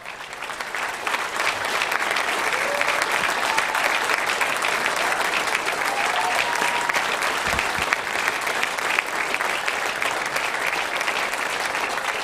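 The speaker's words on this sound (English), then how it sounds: "Give her a round of applause" A crowd at a political rally welcomes a lieutenant governor pick with sustained, dense applause that holds steady at full level for over twelve seconds, moderately distant with no talk over it.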